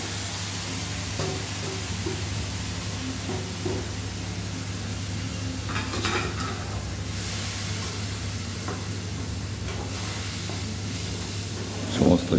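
Water spinach frying with onion and garlic in a home kitchen, a low steady hiss with occasional stirring scrapes over a constant hum, quiet throughout.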